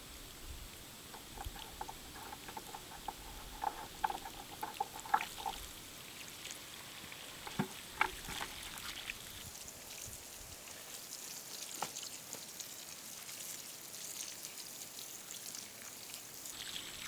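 Water poured from a container onto a newly planted willow tree, several gallons of cool water splashing steadily onto soil, with scattered droplet patters early on and a constant soft wash throughout.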